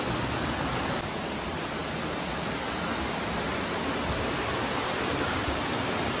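Elephant Falls waterfall near Shillong, Meghalaya, roars as a steady, loud broadband rush of falling water, continuous and close, with no voices over it.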